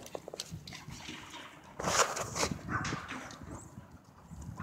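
A dog heard up close outdoors, a few short barks and scuffling sounds with some movement noise, no clear speech.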